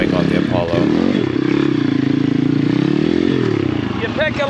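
Apollo RFZ dirt bike engine labouring close up as it climbs over rocks in a riverbed hillclimb, a steady strained drone with clattering and scraping over it and a brief rev near the end.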